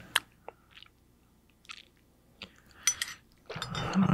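Close, crisp chewing and crunching of food during a tasting, scattered bites and crackly chews with quiet pauses between them, then a denser crunching burst at the end, with no talking.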